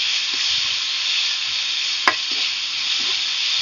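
Grated raw mango frying in a pan for a mango chitranna, a steady broad sizzle running throughout with two brief sharp clinks of a utensil, close and fairly loud, no talk.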